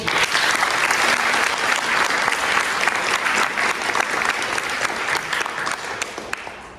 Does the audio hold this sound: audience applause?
yes